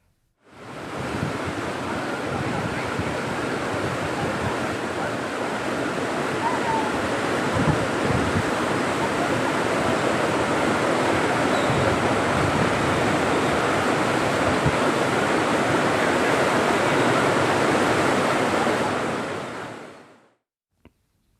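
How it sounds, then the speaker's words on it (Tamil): Flash-flood water in a stream at Karunavur rushes over and breaks a small bridge, giving a loud, steady roar of churning water that holds for about twenty seconds and then cuts off. "கருணாவூரில் உள்ள ஓடையில் சிறு பாலத்தை உடைத்துக் கொண்டு காட்டாற்று வெள்ளம் கரைபுரண்டு ஓடுகிறது"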